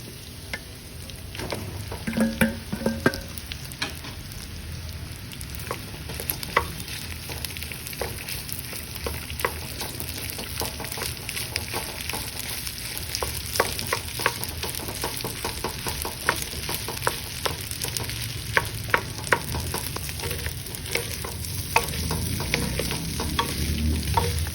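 Rice stir-fries in a hot pan with garlic, carrots and bacon, sizzling steadily while a utensil scrapes and stirs in frequent sharp clicks over about twenty-five seconds, with no speech.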